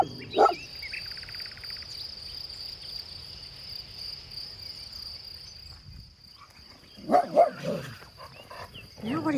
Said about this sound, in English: Now what are you barking at?